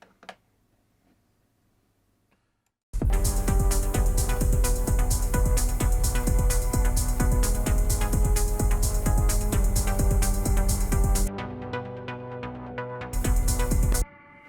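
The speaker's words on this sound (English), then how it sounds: "this is really a very, very simple analog keys preset" A simple analog keys synth preset playing a repeating MIDI sequence in a techno track, loud and rhythmic with steady pulsing chords, starting abruptly after a quiet moment, briefly dropping out, then returning at the end.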